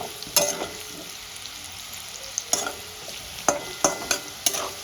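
A catla fish head fries in a pan while a spatula stirs it, giving sharp, close scraping strokes every second or so over a quieter, steady frying sizzle.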